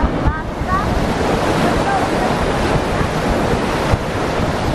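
Steady wash of sea waves with gusting wind buffeting the microphone, continuous and loud throughout, no voices.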